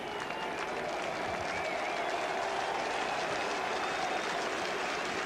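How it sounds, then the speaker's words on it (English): A crowd at a 1980 England versus West Indies cricket Test match at Headingley, applauding and cheering for David Bairstow in a steady, fairly distant wash of clapping that holds throughout. "it'll be a great cheer here for Louis Bairstow"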